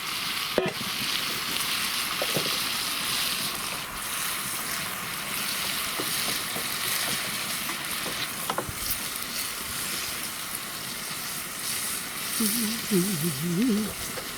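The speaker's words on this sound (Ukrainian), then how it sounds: "І він тушиться, смажиться." Constant sizzling of zucchini frying in a hot pan, a dense steady crackle with a couple of soft clinks and a brief voice near the end.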